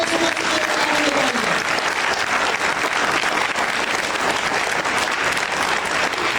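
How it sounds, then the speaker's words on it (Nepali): A church congregation claps for Jesus Christ in dense, sustained applause that stays loud and even from start to end, with a short spoken phrase near the opening. "सबैले यीशु मसीहलाई ताली बजाउनुहोस् न।"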